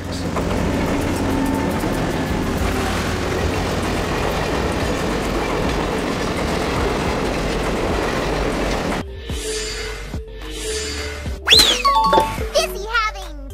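A diesel locomotive train rumbles steadily for about nine seconds, then gives way to sharper clanks, a rising whine and brief rail noises; a voice speaks faintly over the mix.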